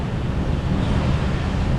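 Sea waves wash against a pier in La Union, a loud, steady low surge heavily buffeted by wind on the microphone.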